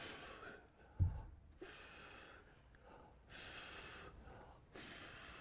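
Heavy breathing during a pulling exercise: a sharp gasp, then repeated loud, airy breaths in and out in a steady rhythm.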